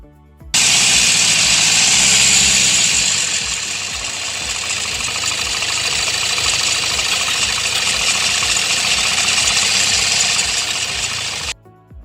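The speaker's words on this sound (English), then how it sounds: "And here is what a bad timing chain sounds like." A car engine with a bad timing chain idles loud and close for several seconds, its rough hum carrying an evenly spaced ticking rattle before it cuts off.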